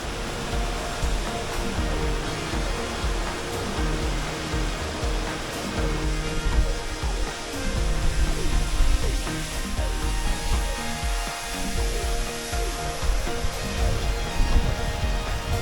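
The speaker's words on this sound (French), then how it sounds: "La cascade, elle est vraiment magnifique." Steady, dense rush of a waterfall in the Pyrenees, a continuous broadband roar that holds even and full throughout with no voices.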